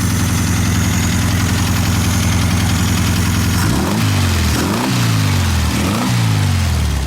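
Loud, close idling of a 1974 VW Beetle engine with an exhaust leak, a rough, puttering exhaust note; midway the pitch dips and surges in several wavering swells, no talking.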